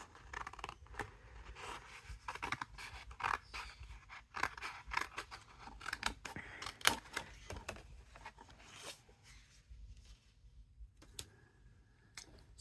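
Scissors snip through craft paper for a paper cone craft, making repeated close, crisp cuts in an uneven rhythm, with no talking.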